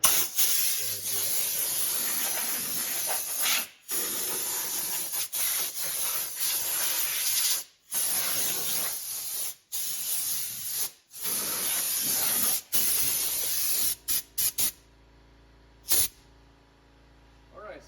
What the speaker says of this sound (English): take some compressed air, and I'm going to blast basically everything on the side of the engine bay with it